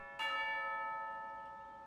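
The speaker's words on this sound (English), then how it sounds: "You hear the sound of a bell." Single bell struck in Genshin Impact to signal tea time, a clear metallic strike followed by a long ringing, humming decay, alone over faint background.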